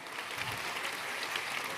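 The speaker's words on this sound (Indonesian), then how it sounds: "tepuk tangannya yang paling meriah buat Yesus Tuhan kita." Enthusiastic audience applause fills a church sermon hall, a steady dense clapping that holds loudly and evenly throughout, with no voices on top.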